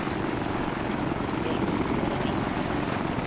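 Helicopter in ARMA 3, a steady close rotor and engine drone filling the whole stretch at constant loudness, with no voices over it.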